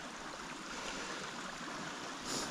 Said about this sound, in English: Little creek right here